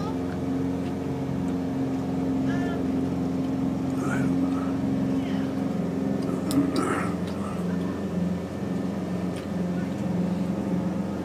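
Steady low drone of a motorboat engine running continuously on Rainy Lake, heard from the stern cabin, with faint wind and occasional quiet voices in the background.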